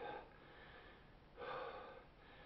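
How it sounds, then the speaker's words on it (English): Heavy breathing after eating a Moruga Scorpion hot pepper: quiet, close, rasping breaths, with a sharper snort-like inhale partway through and no speech. "I'm breathing to get through this endorphin rush"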